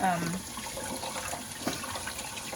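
Hot tap water runs steadily over hands at a sink, a continuous close splashing hiss, with a brief voice or tonal sound at the very start.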